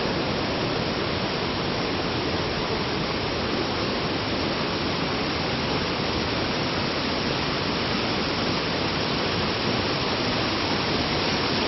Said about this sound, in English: And the secondary waterfall.